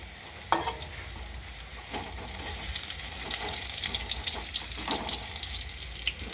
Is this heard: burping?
no